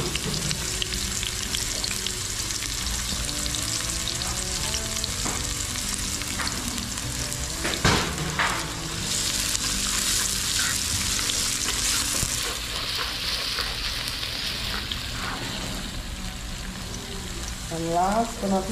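Ginger, banana, celery, hot peppers and tomatoes fry in a pan with a loud, continuous close sizzle and occasional stirring scrapes, while a voice talks faintly over the cooking.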